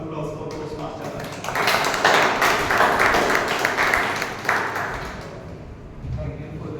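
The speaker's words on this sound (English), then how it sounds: "Let's have a big round of applause for Toastmaster Harsh." Audience at a Toastmasters club meeting breaking into applause, swelling from quiet to a steady clatter of clapping mid-clip and fading toward the end, with voices talking before and around it.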